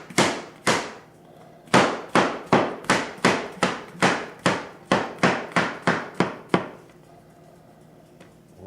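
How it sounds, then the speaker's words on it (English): A knife chops mushrooms on a cutting board in a steady run of about fifteen crisp, evenly spaced strikes, close and loud, with a brief pause early on. "chop up our mushrooms."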